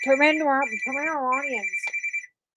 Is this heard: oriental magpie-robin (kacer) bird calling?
no